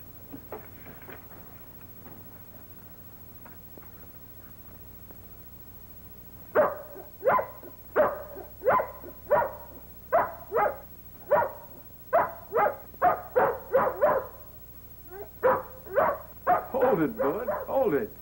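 A dog barks repeatedly in a steady series of loud, close barks, rising into quicker, more excited yelps toward the end, after a quieter stretch.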